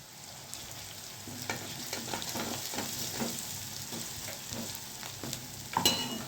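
Garlic fries in a pan of hot oil for palak paneer, a steady soft sizzle with occasional stirring scrapes, close but fairly quiet and with no talk.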